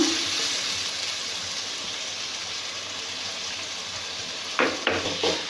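Thinly chopped tomatoes go into a hot pan for an egg dish, giving a steady close sizzle and hiss with a few short scraping stir sounds near the end.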